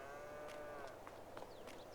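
Cows moo in Farming Simulator 22 on the Attingham Park farm, a faint, drawn-out bovine low heard alone over quiet ambient background, with a few small clicks.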